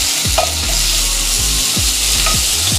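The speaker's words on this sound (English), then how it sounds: "you want to keep on moving it around in the pot like this" Asparagus with garlic, lemon pepper, salt and ground pepper is stirred around in a hot pot: a constant hissing sizzle with rhythmic scraping strokes, close and fairly loud, with no talking.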